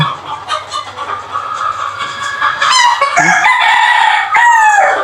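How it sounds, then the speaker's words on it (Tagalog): A heavy-bodied gamefowl rooster crows loudly and close on a farm during early bird season, its long harmonic calls repeating while other chickens cluck and crow in the background. "Napakagandang manok talaga."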